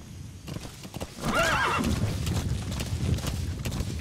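D-Horse in Metal Gear Solid V: The Phantom Pain gallops with rhythmic clip-clop hoofbeats and lets out a clear, high neigh early on, the hooves continuing steadily afterward at moderate loudness.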